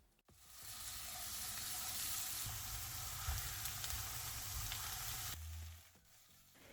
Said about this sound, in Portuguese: Agora eu vou refogar a carne